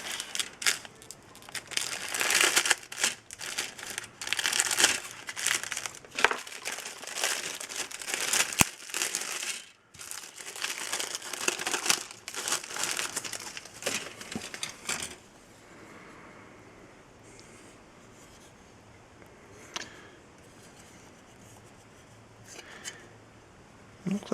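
A plastic bag holding 1/72 scale model tank kit parts crinkles and rustles up close in dense bursts, then goes quieter with only occasional faint rustles.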